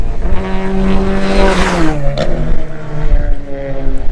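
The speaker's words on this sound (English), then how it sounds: "there's an ex-TCR Australia car out on track" An ex-TCR Australia touring race car engine drones loudly on a track during a warm-up, its pitch shifting as it accelerates and passes close by.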